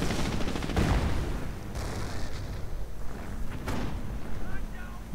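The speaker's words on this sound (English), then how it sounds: "Mortars providing plenty of covering fire for it" Mortar covering fire in a wartime video game, heavy and continuous: overlapping booms and rattling gunfire crowd together with no gap in the din.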